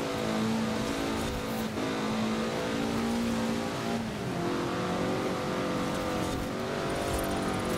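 Game car engine in Forza Horizon 4 straining and failing to rev freely after hard landings, a loud continuous drone with wavering pitch, a brief dip near four seconds, with no talking.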